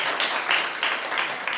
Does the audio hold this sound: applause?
yes